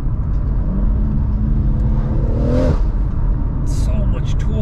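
A BMW M140i pulls hard through a 0-60 run, its engine a steady loud roar with a rising whine as it gears up, while a driver talks over it.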